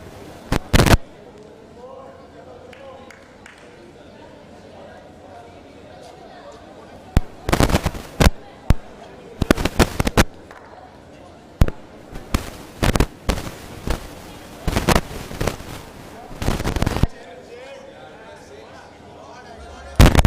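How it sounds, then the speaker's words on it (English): Fireworks going off over an outdoor cricket carnival ground, bursts of sharp cracks and rapid crackling pops in irregular clusters, some loud, heard under continuous commentary. "That is a firework in the sky."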